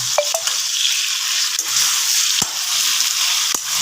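Chili powder is stirred into a sizzling curry in a pan, giving a continuous loud frying hiss broken by a few sharp scrapes and clicks of the spoon against the pan.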